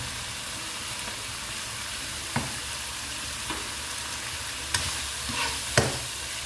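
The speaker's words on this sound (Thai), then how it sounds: "ก็ผัดให้เข้ากันค่ะ" Thai-style mee sua rice noodles are stir-fried in a pan, giving a steady frying hiss punctuated by a few sharp scrapes and taps of a spatula against the metal.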